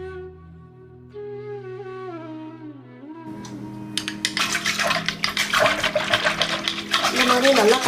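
Buttermilk thinned with about a litre of water and churned by hand, a rising burst of sloshing, frothy liquid swishing that grows louder after a quiet start with a voice speaking over it.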